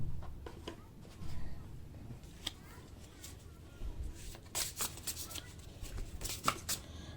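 Oracle cards shuffled for a reading, with soft papery riffles and taps coming in short bursts, some louder near the end, while someone talks quietly.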